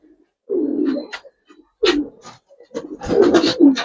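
Pigeons of an old breed in a loft give soft, throaty coos in three separate bouts, close and fairly loud, with short gaps of near silence between them and no talk.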